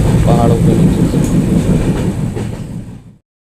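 A passenger train rolls along the line toward Tripura through hilly country, a steady loud rumble of wheels and carriage noise that holds for about three seconds before cutting off abruptly.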